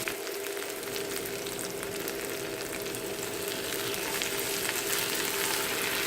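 Shallots, tomato, curry leaves, cinnamon, fennel and dried chilies frying in sesame oil in a pan, a dense steady sizzle heard close up, continuous and even throughout.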